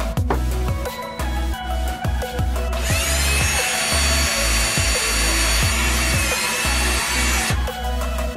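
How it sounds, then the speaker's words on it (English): A power drill bores holes into a wooden sign, a loud close whir with a steady rhythmic knocking. It rises to a sharp, bright grinding in the middle and then eases off near the end. "The next thing I did was drill two holes into the top of the sign"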